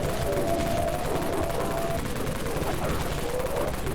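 Dawn Mag fire in the video game Dead Frontier: a dense, continuous barrage of rapid gunshots that never lets up, loud and steady throughout, with no talking.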